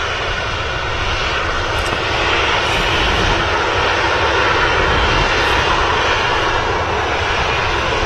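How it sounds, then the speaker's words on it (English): A jet airliner taxis out at Manchester Airport, its engines giving a loud, steady broadband roar that holds evenly throughout with no voices. "it's the Tui Robinson special on the taxi"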